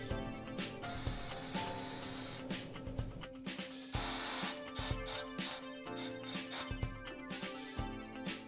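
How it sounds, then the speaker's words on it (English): A CEMB SM628BPS swing arm tire changer with bead press system ratchets and whirs as its lower bead dismount roller lifts a tire off the rim, a loud, steady mechanical grinding with rhythmic clicks and no talking. "we'll use our lower bead dismount roller to lift the tire off of the rim"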